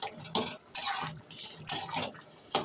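Spinach, eggplant and lentil dumplings being stirred in a curry pan, a few separate scraping, clattering strokes of a spoon against the metal with short pauses between them, close up with no talking.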